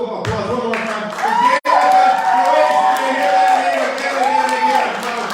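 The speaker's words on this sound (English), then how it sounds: "let's have a round of applause one more time for" Audience at a Las Vegas live show cheering and applauding, with whoops and shouts over a steady crowd roar that stays loud throughout the clip, a tonal musical or vocal line running underneath.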